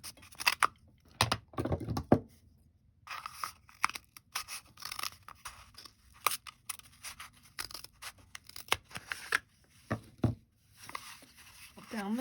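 Scissors snip repeatedly through a cardboard toilet paper tube, cutting it down the center with crisp, irregular crunching cuts and paper scraping, close and fairly quiet, with pauses between clusters of snips.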